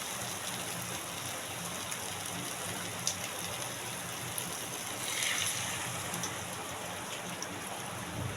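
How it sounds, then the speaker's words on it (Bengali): Water poured into a pan of cooking soybean curry, a steady broad rushing hiss lasting several seconds at an even level, close and moderately loud with no talk. "এতে এবার আমি জল ঢেলে দেবো।"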